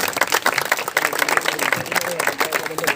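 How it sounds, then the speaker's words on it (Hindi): Audience in an auditorium clapping at a yoga and fitness gathering, with dense, rapid applause and some crowd noise, moderately loud. "एक बार आप सभी अपने लिए ताली बजा दीजिए।"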